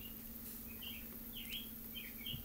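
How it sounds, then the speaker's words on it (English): Several short bird chirps at moderate distance, scattered over a steady background hum, with no talking. "You can hear the birds chirping."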